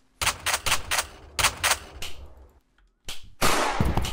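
A gun fires in the video game Baldi as rapid bursts of sharp, loud cracks. The groups of shots are broken by short gaps of quiet.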